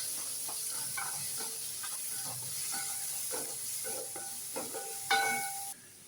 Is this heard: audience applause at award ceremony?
no